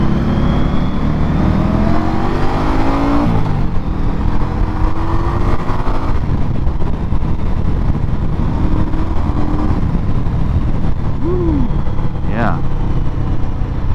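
An Indian Scout Bobber motorcycle pulls away hard on a demo ride, its engine note rising through several surges under loud, constant wind roar, with a rider talking over it.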